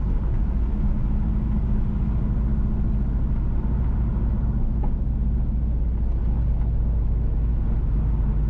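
Car driving along the Frankfort to Gayle Road in St Mary, Jamaica, heard from inside as a steady, loud low road and engine rumble that continues without a break.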